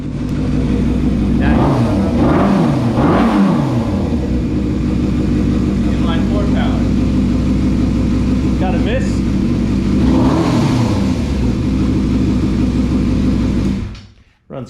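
A 2005 Yamaha Thundercat 600 (YZF600R), rebuilt after a wreck and fresh from a leaking-radiator repair, idles loudly nearby with a steady rumble, rising in a few short revs early on and again later before cutting off at the end.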